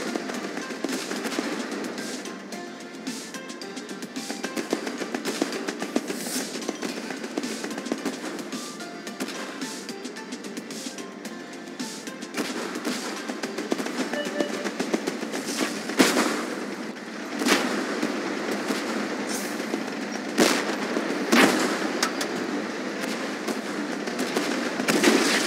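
Gunfire striking a tank during a battle in the Tank Force video game, heard as dense, continuous crackling and popping impacts with occasional louder bangs over a steady rumbling background, without voices.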